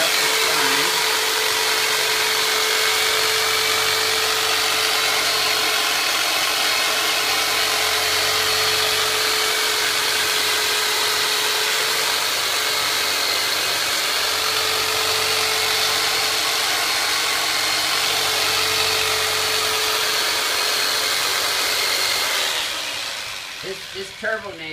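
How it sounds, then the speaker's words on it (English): A Turbonator massage tool built from a Black & Decker jigsaw buzzes steadily and loudly for over twenty seconds with a constant motor whine, then cuts off near the end. "This Turbonator is custom made from a Black & Decker jigsaw"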